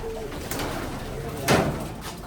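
Close racing pigeons give low throaty coos in a loft, a couple of short calls with a louder burst midway and faint background rustle.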